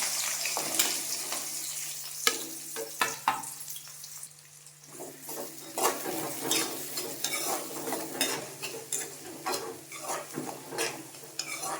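Garlic cloves, dried red chillies and small onions frying in a pan for a fish curry with brinjal and cowpeas, soft sizzling broken by frequent scraping stirs and clinks of a spoon against the pan.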